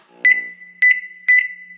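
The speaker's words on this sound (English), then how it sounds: "Microwave." A kitchen microwave oven sounds three loud, clean electronic beeps spaced about half a second apart, close and alone with no talk.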